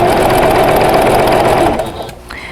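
Sewing machine stitching straight quilting lines on a pillow cover, a steady loud mechanical whir for about two seconds before slowing and fading as stitching stops.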